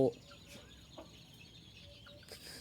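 Faint peeping and soft clucks from month-old chicks, scattered and quiet against a low background hum.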